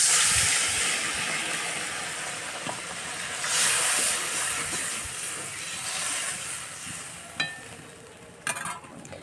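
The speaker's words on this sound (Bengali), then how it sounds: "জলটা ফুট আসুক, ফুট এলে মাছ ছাড়বো। দেখুন কি সুন্দর ফুট চলে এসছে।" Water coming to a boil in a wok, a broad steady hiss and bubbling rising and falling for several seconds, heard close up, with a few sharp clicks near the end.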